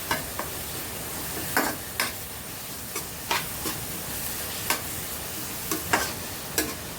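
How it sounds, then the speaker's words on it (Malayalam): Spices and an onion mixture sautéing in a pan with coconut oil, beetroot, carrot, green chilli and tomato, giving a steady soft sizzle broken by scattered light clicks of stirring. "എന്നിട്ട് വഴറ്റി എടുക്കുക കേട്ടോ. നന്നായിട്ട് വഴരട്ടെ."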